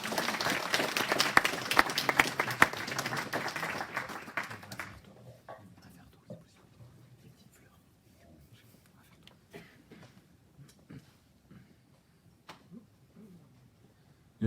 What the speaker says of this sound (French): On peut peut-être l'applaudir pour l'accueillir.